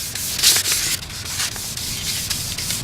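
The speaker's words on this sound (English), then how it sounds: "we're actually wet sanding the headlights with some 1000 grit" A Mercedes 350 SLK plastic headlight is wet sanded with 1000-grit sandpaper, giving a continuous, close, gritty rubbing with rhythmic back-and-forth strokes and no talking.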